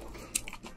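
Someone bites into crispy fried food, giving one sharp close crunch amid soft, quiet chewing noises.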